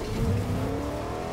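A car drives in Fortnite with a steady, close engine drone and a brief rise in revs, loud and alone with no talk.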